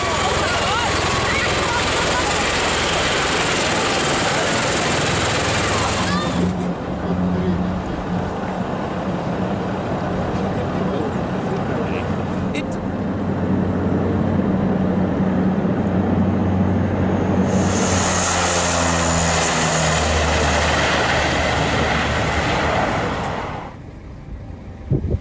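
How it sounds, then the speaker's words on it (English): A V-22 Osprey tiltrotor comes in to land in a park, its deep steady rotor and engine drone running throughout under talking voices, rising to a brighter roar near the end before cutting off. "A V-22 Osprey made a dramatic entrance."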